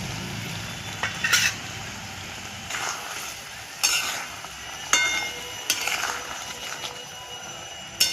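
Spice-rinse water poured into a hot, sizzling pan while cooking prawns with taro stolons, giving a hissing crackle and sharp bursts of spattering at irregular intervals.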